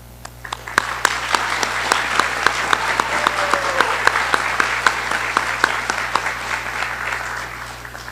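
A graduation audience applauds at a high school ceremony in a large hall, the clapping building quickly into a steady, dense patter with sharp individual claps punctuating it before slowly thinning toward the end.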